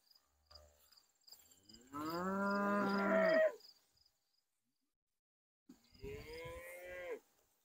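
Cattle in a knee-high grass pasture on a farm managed with a virtual fence: two loud, drawn-out moos separated by a pause, with faint insect chirping in the quiet background.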